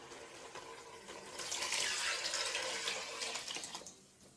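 Water from rinsing mint leaves is poured into a pot of rice for potato pulao, a soft splashing stream that swells for a couple of seconds and then tapers off, close by and with no talking.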